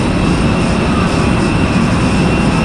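A loud, steady roar of a Super Air Jet airliner engine, constant and close, with a high whine over a broad rumble.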